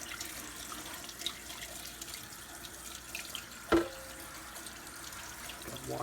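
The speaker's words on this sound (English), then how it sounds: "I'm going to rinse out the cylinder." Tap water runs steadily to rinse out a KE102 two-stroke engine cylinder and its ports. The flow is fairly quiet and constant, with a brief louder splash partway through and no voices.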